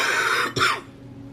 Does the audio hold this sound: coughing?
yes